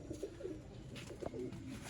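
Sialkoti pigeons coo softly and repeatedly, several low rolling calls against a steady background hum, with no voices.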